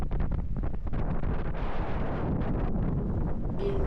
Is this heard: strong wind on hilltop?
yes